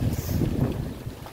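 Strong gusting wind from a typhoon buffets the microphone at a free-range chicken farm, a loud, continuous low roar with rumbling surges and no clear voices.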